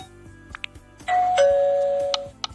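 A two-note ding-dong doorbell effect from the Vídeo Show mobile editor sounds clearly, the second tone lower and held longer, over a soft steady pulsing background.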